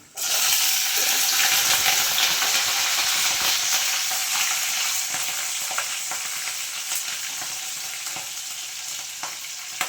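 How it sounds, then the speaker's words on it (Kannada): Green chillies sizzle in hot oil with lentils for village-style tamarind chitranna, a loud, steady frying hiss that continues without a break for the whole stretch, with a few light stirring clicks and no voices. "ಇಷ್ಟು ಫ್ರೈ ಆದರೆ ಸಾಕು ಹಸಿಮೆಣಸಿನ್ಕಾಯಿ ಸೇರಿಸ್ಕೊತಾ ಇದ್ದೀನಿ"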